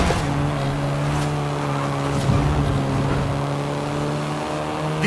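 Volkswagen Golf R engine in a driving simulator game, a steady sustained drone with a constant low harmonic hum throughout, moderately loud and alone with no talk.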